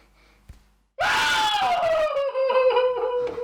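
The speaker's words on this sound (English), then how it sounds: "You could have told me you were going to scream." A person lets out a sudden, loud, sustained scream after near silence, one long piercing shriek that wavers and trails off over a few seconds.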